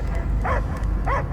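A dog in the Guardians of the Galaxy video game gives two short, tonal bark-like yips about half a second apart over a steady low game background rumble, with no talking.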